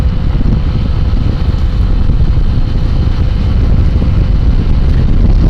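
Steady, loud low rumble of wind buffeting a microphone while riding a Kuba Rubano 150 scooter, with engine drone underneath; no talking.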